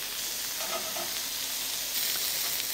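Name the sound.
prawns sizzling on a hot ridged griddle pan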